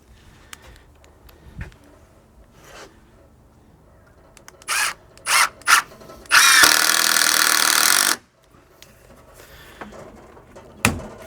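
A power drill drives screws into a wooden deck, with several short whirring bursts followed by one longer sustained run, close and loud, separated by quiet pauses and small knocks.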